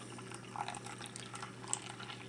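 Hot water poured onto dollar store coffee grounds in a brewer, a faint, steady trickle with soft splashy swells and no talking.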